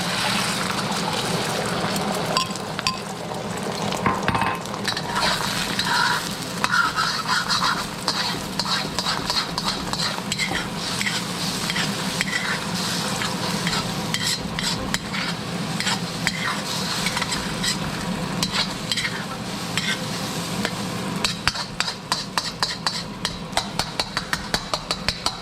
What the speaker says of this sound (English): Okay, the eggs go in.